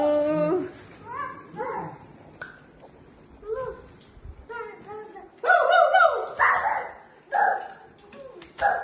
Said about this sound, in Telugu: రెండు కుక్క పిల్లలు